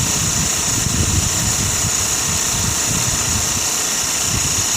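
A small Sirius steam engine drives a 30-amp alternator generator, making a steady, even mechanical churn with a low rhythmic chuffing and a constant high whine, running alone without voices.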